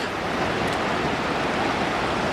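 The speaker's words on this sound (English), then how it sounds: "here we are at our next Pole Creek crossing" Rushing water at a wide mountain creek crossing in Wyoming's Wind River Range pours in a loud, steady, close-up wash with no voices.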